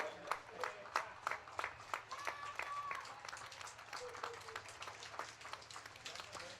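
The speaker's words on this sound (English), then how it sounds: "Cicconini has just pushed his kart over the line to a rapturous round of applause" At a Rok Cup International senior kart race finish, a distant crowd applauds with scattered claps, faint and uneven, while a commentator talks over it.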